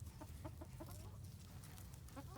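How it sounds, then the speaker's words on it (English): A chicken clucks softly and repeatedly in short rhythmic bursts while playing with a cat, faint and close, over a low background rumble. "Here's a chicken playing with the cat."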